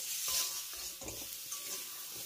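Spices and tomato being stirred and fried in a pan for vegetable thukpa, a quiet sizzle broken by a few scraping strokes of a spoon against the pan.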